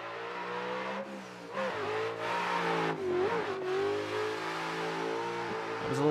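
A racing car from the ACD car pack in a sim racing game, its engine droning steadily and close, with pitch rising and dipping through several gear changes and revs and no one talking.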